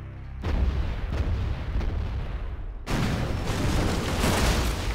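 Offshore artillery fire from a battleship in the Command & Conquer Generals Zero Hour video game: two heavy booming blasts, each followed by a sustained rumbling roar, loud and close with no speech.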